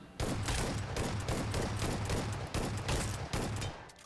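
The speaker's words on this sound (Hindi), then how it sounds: "10 गोली का स्पैम करेंगे" Rapid automatic gunfire in BGMI, long sustained bursts, loud and close, with brief pauses between strings of shots.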